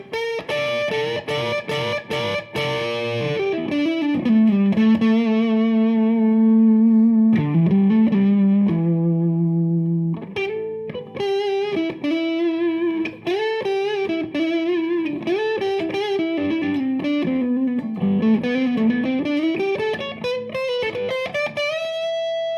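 A Westfield SG electric guitar rings out through a reverb pedal with both pickups on, sustained chords and bent notes with distorted tone and a lingering wash of reverb, played alone for over twenty seconds.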